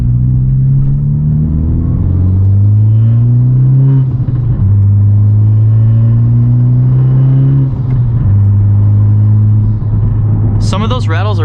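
A 2021 Honda Civic Type R with a MAPerformance street exhaust drones loudly and steadily through repeated rising and falling revs, under constant talk, with a brief rattle near the end.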